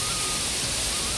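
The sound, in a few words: waterfall sound in the hills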